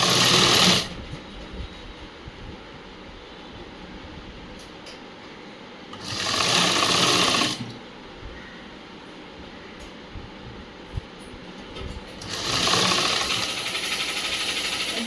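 A sewing machine stitches a blouse in three loud, steady bursts, the first brief, then a pause, a longer run, another quiet gap and a final sustained run, with no voices.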